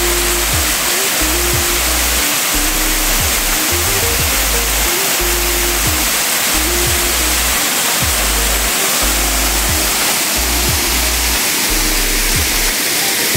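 A waterfall on a farm lot in Guinyangan, Quezon roars steadily and loudly, a constant broadband rush with low repeated thumps underneath.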